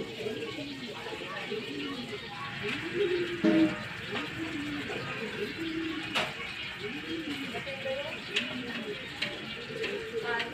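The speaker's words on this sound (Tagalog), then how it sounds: "Nagsabay yung ibon niya, mga kalapatid o." Pigeons coo in repeated soft, throaty rolls close by, with a few sharper flutters and clicks mixed in.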